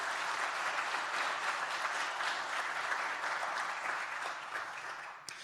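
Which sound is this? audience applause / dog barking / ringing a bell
audience applause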